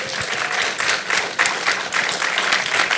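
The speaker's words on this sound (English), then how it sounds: "round of applause to our amazing panel, please." An audience at a Vancouver Web Fest panel session on building an audience breaks into steady, dense applause, a full room of hands clapping continuously and loudly for about three seconds, with no talking over it.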